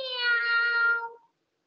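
A human voice imitates a cat's meow, a single clear, close mew lasting about a second, then silence.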